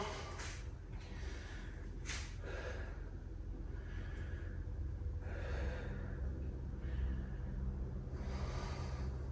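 Heavy, effortful breathing from a person holding a plank during a full-body workout, with close, loud huffs and gasps repeating roughly every second or two over a continuous low background rumble.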